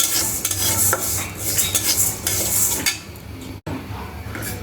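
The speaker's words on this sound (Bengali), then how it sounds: "আমি মুগ ডালটা ভাজা নিই।" Moong dal being dry-roasted in a pan, with a utensil scraping and clinking against the metal in quick, close, irregular strokes over a faint background hiss; no voices are heard.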